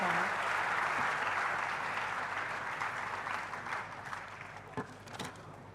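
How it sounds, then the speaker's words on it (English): Applause for the winner of the Comedic Arts award at the IIT Kharagpur undergraduate induction program: a thick, even wash of many hands clapping continues throughout, gradually easing toward the end, with no talk. "With a huge round of applause, please welcome the winner of the award for Comedic Arts"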